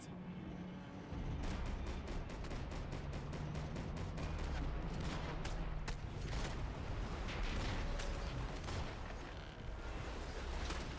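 Gunfire from a Max Payne 3 firefight: after a brief low hum, a dense barrage of rapid shots and clattering impacts runs continuously and loudly for about ten seconds, with no speech.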